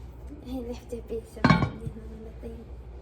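A lid set onto a saucepan of onions gives a single brief metallic clatter and clink, standing out over quiet kitchen background.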